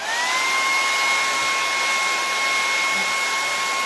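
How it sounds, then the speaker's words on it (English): A hair dryer blows continuously and loudly up close, drying stencil paint, a steady whooshing hiss with a constant whine, no voices. "hair dryer"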